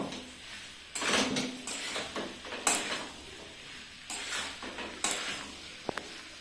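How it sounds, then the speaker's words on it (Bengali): Chickpeas frying with salt and spices in a pan, stirred with a spoon: scraping, shuffling stirring strokes over a soft sizzle, ending with a couple of light clinks. "এই যে ভালো করে আমি নুন টুন সব মশলা টশলা দিয়ে আমি ভালো করে কষে নেব।"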